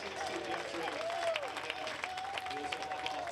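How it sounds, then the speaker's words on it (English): Cheers and applause from the Lotus team at the Formula V8 3.5 podium at Silverstone, fairly distant and low, with faint whistles and voices carrying over a broadband crowd wash. "To the applause and cheers of the Lotus team"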